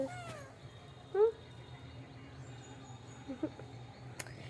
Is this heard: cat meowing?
yes